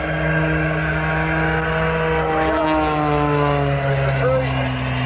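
A propeller aerobatic plane's engine drones steadily and loudly while it holds a hover during an airshow flight, its pitch shifting slightly midway, with a pilot's voice faintly over the engine.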